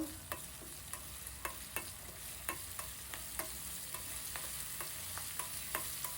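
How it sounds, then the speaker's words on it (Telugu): Chopped tomato frying in a tempering with curry leaves for kattu pongali, a faint steady sizzle broken by regular sharp ticks of a spoon against the pan, heard alone with no voices. "ఈ టమాటా ముక్కలు బాగా ఏగనిచ్చి మంచిగా ఏగిని"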